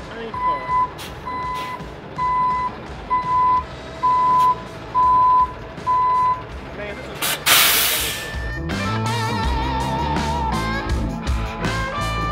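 A tow truck gives a series of steady, evenly spaced reversing beeps while loading a car pulled from the water, then a sharp hiss of air or spray is followed by engine rumble and clanking, with people talking nearby.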